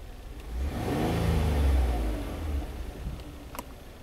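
A Hyundai car engine with suspected oxygen sensor trouble is revved once, rising smoothly to a loud peak, then settling back to a steady idle.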